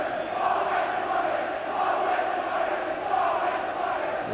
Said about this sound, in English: Well, the fans who used to cheer him, jeering there